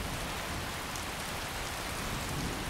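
Steady rain falling in the video game Skyrim Special Edition, a dense, constant hiss of drops on surfaces with even loudness throughout and no talk.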